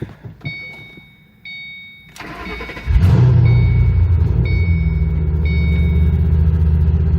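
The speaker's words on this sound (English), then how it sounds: "Now it's time to fire it up." A modified Ford Mustang GT with aftermarket exhaust and cold air intake cranks briefly and catches, then settles into a loud, deep idle rumble. Faint repeating electronic chimes sound before and during it.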